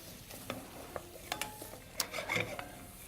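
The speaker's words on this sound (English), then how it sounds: "We're going to saute some onions until they're soft and clear." Finely chopped onions sautéing until soft and clear for a Creole rice dish, giving a quiet, steady sizzle broken by a few soft scrapes and stirring clicks of a utensil in the pan.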